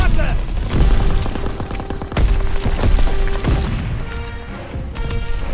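A Bren light machine gun fires in Call of Duty WW2, with loud rapid bursts of shots and booming impacts in quick succession, and battle chatter mixed in.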